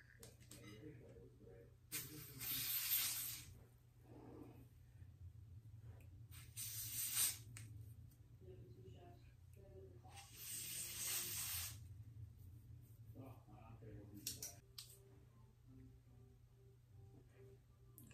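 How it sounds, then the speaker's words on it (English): Several short bursts of hissing hair spray, each lasting about a second, come close to the microphone against a quiet low hum. "So I'm gonna spray a little bit more on top."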